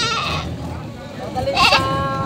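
A goat bleats at a livestock auction market. Two bleats, one at the start and one near the end, sound close and fairly loud over background crowd noise.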